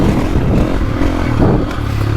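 A KTM 450 Factory Edition motocross motorcycle engine runs hard while riding, a loud, close, rough engine roar with wind and clatter throughout the short stretch.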